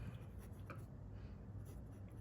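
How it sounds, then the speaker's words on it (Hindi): A pen scratches across paper while solving a coordinate geometry exercise, a faint, close, continuous scribbling with short strokes and no talk. "तो जहाँ पे हम लिखेंगे पॉइंट्स"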